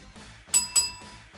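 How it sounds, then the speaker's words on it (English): A bell is rung twice in quick succession, two bright ringing strikes that fade over a faint background murmur. "it gives Coleman a chance to ring the bell"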